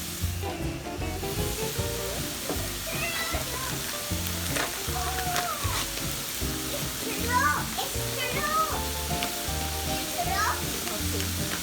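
Vegetables for a stuffing sauté in a hot pan, a steady close sizzle and hiss with occasional stirring scrapes, while a voice talks over it now and then.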